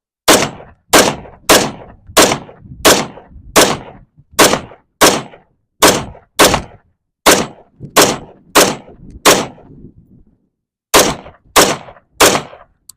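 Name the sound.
gunshots from a rifle with a Feyachi V90 red dot hitting steel targets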